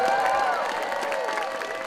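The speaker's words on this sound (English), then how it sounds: "give him a round of applause, please." Crowd at an outdoor hospital-cuts protest in Dunedin cheering and applauding, a dense steady wash of clapping with raised voices and whistle-like tones mixed in, fairly loud and continuous.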